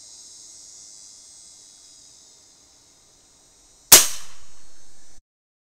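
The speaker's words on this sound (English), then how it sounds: "Someone would definitely know you're shooting an air gun." An AirVenturi AvengeX Tactical tube-fed PCP air rifle fires once without a moderator: a sharp, loud crack on a bench, followed by a brief trailing hiss of air before silence.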